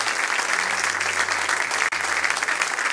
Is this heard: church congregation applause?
yes